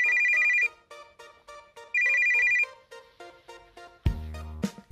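A phone rings in the video game Always Sometimes Monsters, bright electronic ring bursts repeating in a steady pattern with short tonal chirps between them, ending in a louder pickup-like sound.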